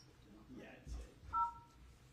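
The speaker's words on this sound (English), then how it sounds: "If you know your party's extension, you may dial it now." A single short touch-tone keypad beep sounds on a telephone line, brief and clear near the end, over a faint low murmur.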